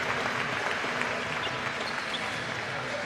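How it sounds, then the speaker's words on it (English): Spectators at a Nations Cup 2023 netball match between Cook Islands and Papua New Guinea applaud as an injured player leaves the court, a steady, even wash of clapping heard at a distance through the whole stretch. "you can hear the crowd applauding as she makes her way off the court"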